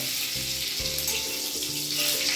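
Black cumin seeds drop into hot oil and give a faint, even sizzling hiss close by, with a low hum underneath and no speech.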